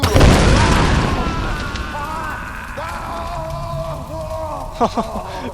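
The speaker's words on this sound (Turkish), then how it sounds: "Aman Allah'ım daha da patlamaya devam ediyor" A gas tank explodes in the video game Tomb Raider 2013 with a loud, close boom that opens with a heavy blast and rolls off into a long rumbling decay, while voices talk over the fading tail.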